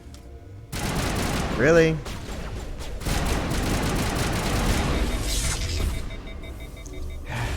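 Gunfire in the sci-fi shooter Mass Effect Legendary Edition breaks out as a squad opens fire, a dense, continuous crackle of shots lasting several seconds over a rumbling backdrop, with voices speaking over it.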